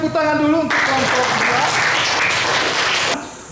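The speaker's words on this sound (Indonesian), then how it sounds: "tepuk tangan dulu untuk kelompok" Classroom applause for a student group during a social studies lesson, a dense burst of clapping that starts abruptly after a teacher's voice and runs steadily for about two and a half seconds before cutting off.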